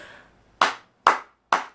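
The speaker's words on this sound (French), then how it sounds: "Applaudissons pour David Eto'o qui a ouvert son truc" Three sharp, separate hand claps spaced about half a second apart, fairly close and crisp, each decaying quickly into near silence, with no voices.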